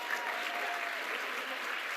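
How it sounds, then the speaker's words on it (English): An audience at a scholars' awards ceremony applauds the recipients, a steady wash of clapping that is moderately loud and even throughout. "Join me in giving these recipients another round of applause."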